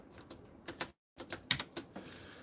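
Quick bursts of keystrokes clatter on a keyboard, close and quiet, with a brief pause midway before the tapping resumes.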